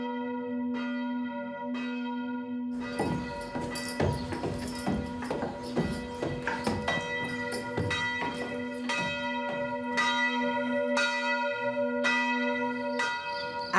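Church bells peal in the village of Vézelay, a steady layered ringing with one strong sustained tone, a few single strokes at first, then many overlapping bells clanging densely and loud throughout.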